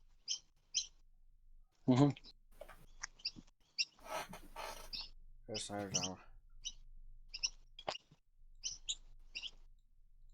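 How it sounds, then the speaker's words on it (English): Birds chirp in short, scattered tweets in the background while a person talks intermittently nearby, with occasional clicks between the calls. "Sorry about the birds."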